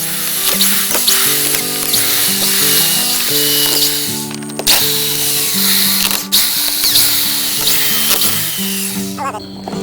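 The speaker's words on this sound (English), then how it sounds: "I took all the screws out" A power drill backing screws out of a cast magnet rotor for a homemade dual permanent magnet wind turbine, loud whining bursts that rise and fall in pitch between short pauses and ratcheting clicks.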